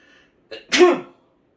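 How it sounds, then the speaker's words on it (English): A single loud sneeze up close, preceded by a short sharp intake of breath, then quiet. "I have to sneeze, excuse me."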